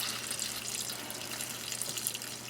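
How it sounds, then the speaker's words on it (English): Tap water pouring into a pot of boiling green peanuts, a steady soft hiss and splash of running water with faint droplet ticks, heard alone and fairly quiet. "And then I got some tap water, and I'm gonna add it back in there."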